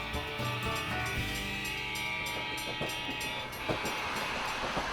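A toy train runs on an HO scale model railway layout, giving a continuous rolling rumble with tonal, horn-like tones and light clatter throughout, with no talking.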